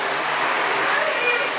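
Shower spray hissing steadily, a dense rush of water falling close by, brief and even.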